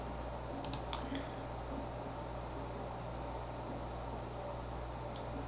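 A few light mouse clicks on a computer while selecting Bitcoin on the Coinbase website, brief and close, over a steady low hum of room and fan noise.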